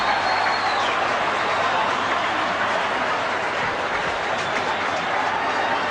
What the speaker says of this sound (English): And the crowd delirious.